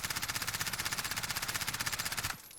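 Rapid automatic fire from an MP7 submachine gun in a video game recoil test, a steady burst of evenly spaced shots for about two seconds that cuts off abruptly.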